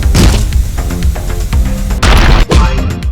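Gunfire and explosions in the video game Streets of Rogue, loud bursts of rapid shots and booms tumbling over one another with no pauses.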